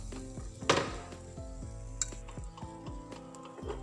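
Eggplant frying in a pan and being turned, a soft steady sizzle with clinking scrapes of a utensil against the pan and one louder clatter, close and quiet, no talk.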